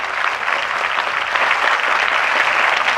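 Loud, sustained applause from a political rally crowd during a Congress student event on a paper leak, dense clapping filling the whole stretch without letup.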